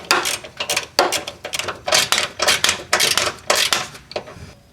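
A hand ratchet tightens sway bar bushing bracket bolts on a car's subframe, giving rapid bursts of sharp metallic clicks in an uneven rhythm, close and crisp.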